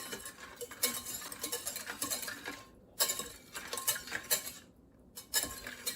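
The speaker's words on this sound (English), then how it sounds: "I'm just going to start whisking this to dissolve the sugar" A metal whisk scrapes and clicks rapidly against a pan on medium heat, stirring brown sugar so it dissolves. The sound is close and steady, with two brief pauses.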